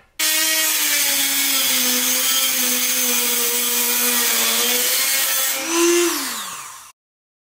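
A power grinder grinds molding studs off a car door, one loud, continuous whining drone that rises near the end and then cuts off, with no speech.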